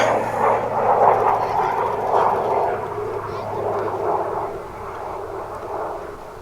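A Pilatus PC propeller airplane rumbles past nearby at DFW Airport, its engine drone swelling and then gradually fading.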